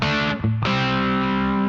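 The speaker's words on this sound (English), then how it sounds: "I think the distortion has a really good sound" Electric guitar through a high-gain distortion effect plays loud sustained buzzing notes with a thick harmonic roar, briefly cut by a short gap before ringing on again, close with no talking.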